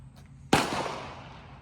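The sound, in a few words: gunshots from Christensen Mesa FFT rifle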